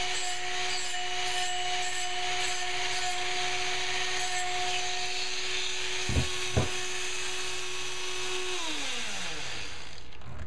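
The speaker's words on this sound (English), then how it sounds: "Just like that, the burr is gone. And just rounding this over," Power tool deburring and rounding over a cut edge, a steady loud whine with harsh grinding texture, two brief knocks near the end, then the motor winds down.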